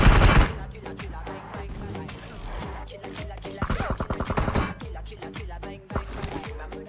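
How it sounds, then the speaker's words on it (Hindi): Video game gunfire rattles in loud, rapid bursts, a quick volley in the middle and scattered single shots either side, set against game sounds, with someone talking over it in places. "भाई दूसरा बंदा मेरे पे गोली चलाने लगता है"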